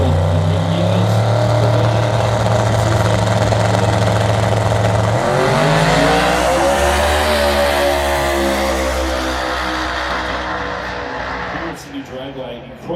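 A turbocharged drag racing car makes a pass at Sydney Dragway, its engine a loud sustained roar that climbs in pitch and then fades as it goes away. A commentator talks over it.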